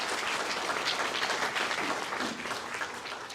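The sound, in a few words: applause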